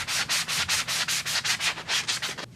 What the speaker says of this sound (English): So I take some sponge sanders and I'm going to remove all of that.